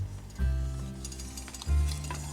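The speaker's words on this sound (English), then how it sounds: "oil is already hot. I'm going to stir." Beeswax chunks stirred through hot oil in a pot, with a steady sizzle and two louder bursts of bubbling and scraping as the spoon moves; close and alone, no voices.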